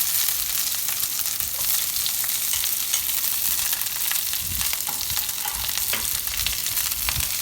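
Garlic and onion stir frying in a pan: a loud, continuous close sizzle with scattered crackles and occasional low stirring thumps throughout, no speech.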